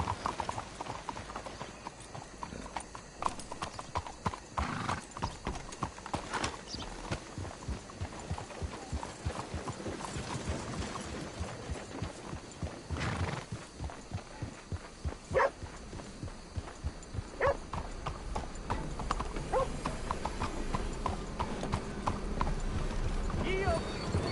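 Rapid horse hooves clip-clop continuously on a hard surface in Red Dead Redemption 2, with a voice speaking over them and occasional ambient game sounds.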